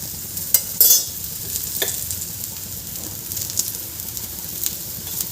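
A methi paratha roasting with oil on a griddle, a soft steady sizzle with a few sharp clatters and scrapes early on, then quieter crackling to the end.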